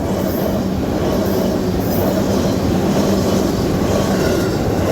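A KRL commuter electric train rumbles past close by at the Citayam level crossing in Indonesia, with a steady loud roar of wheels on rails and faint metallic squeal.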